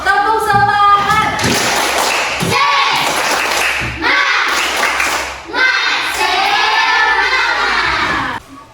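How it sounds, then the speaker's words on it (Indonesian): A classroom of schoolchildren doing the tepuk semangat spirit clap, loud rhythmic clapping mixed with shouted group chanting that pauses briefly between bursts. "Tepuk semangat."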